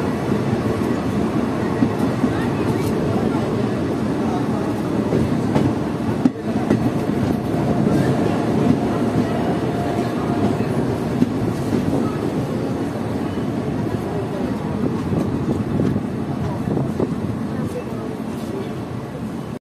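Steady rumble of the 13018 Ganadevta Express passenger train running on the rails in heavy rain, continuous and loud throughout, with faint clicks from the wheels.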